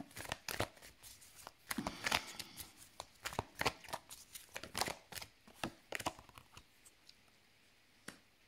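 Tarot cards are shuffled and drawn by hand, giving a quick, busy run of crisp riffling snaps and card slaps that thin out toward the end, close-up and quiet, with no talking.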